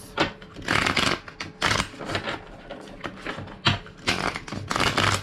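A deck of cards being shuffled repeatedly up close, crisp riffling bursts coming in several quick rounds with brief pauses between.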